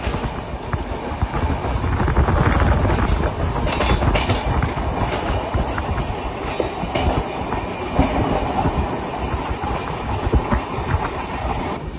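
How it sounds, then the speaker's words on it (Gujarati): A Mumbai local commuter train rumbles past at Mira Road station with loud rhythmic clickety-clack of wheels over rail joints, steady and close for the whole stretch. "આ મુંબઈની લોકલ ટ્રેન"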